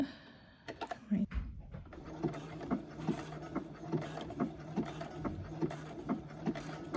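Sewing machine stitching an elastic waistband on kid's shorts, a steady, quiet mechanical thumping repeating at a regular rhythm after a few starting clunks, heard close up.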